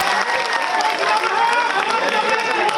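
Strong, steady applause from a large audience at a televised Urdu-Hindi shayari recital, loud and continuous clapping filling the whole stretch with a crowd murmur underneath.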